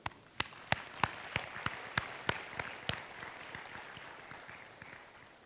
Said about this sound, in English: Please join me in another round of applause for these fine soldiers